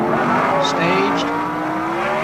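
A Mustang and a Camaro, near-stock 600-horsepower drag cars at the 1977 NHRA World Finals, launch off the line with a loud, rising engine roar and brief squeals while an announcer talks throughout.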